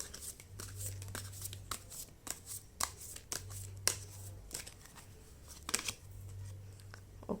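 Tarot cards are shuffled by hand in a series of quick, papery riffles and slides at close range, with a low hum running underneath and no voices.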